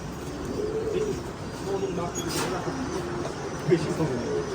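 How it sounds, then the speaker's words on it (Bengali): Mondian pigeons cooing in a pigeon farm: low, soft, rolling coos repeat through the stretch at close range, half buried under people talking nearby. "এটা মন্ডিয়ান কবুতর"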